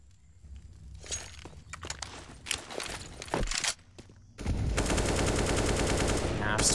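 Gunfire sprays into a bombsite in CS:GO, first scattered shots and footsteps, then a sustained burst of rapid automatic fire that stays loud to the end.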